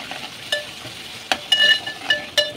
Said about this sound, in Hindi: हरी मिर्ची, कांदा, अदरक लहसुन का पेस्ट, लौंग, इलायची, दालचीनी, एक जावित्री, इतना डाल के फ्राई कर लेंगे